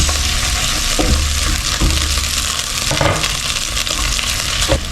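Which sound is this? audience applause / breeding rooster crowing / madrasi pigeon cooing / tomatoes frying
tomatoes frying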